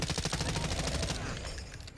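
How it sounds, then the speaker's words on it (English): Rapid automatic gunfire in Black Ops 6, a fast rhythmic burst of shots that is close and steady, then trails off into a rougher wash of noise. "These guys are shooting at us."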